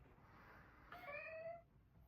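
A house cat lets out a single drawn-out meow, fairly close but quiet, rising and then fading against a faint room background.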